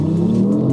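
A BMW i8 hybrid sports car in sport mode gives off a steady, deep, humming engine note, an artificial engine sound rather than a real one, lasting under a second with no talk.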